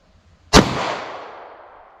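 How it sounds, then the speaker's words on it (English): A single loud 9mm pistol shot fired close by, with a sharp crack followed by a long reverberant decay that fades over nearly two seconds, alone without talk. "All right, 9mm pistol."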